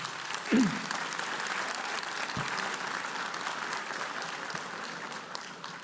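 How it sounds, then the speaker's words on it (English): Sustained audience applause fills a university convocation hall, a steady wash of many hands clapping at moderate level, with a brief louder knock near the start and no speech over it. "Another round of applause, please."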